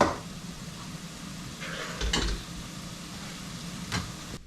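Shredded potatoes par cooking in a pan for a cheesy hashbrown breakfast: a soft continuous sizzle with a few clinks and scrapes of a utensil stirring against the pan.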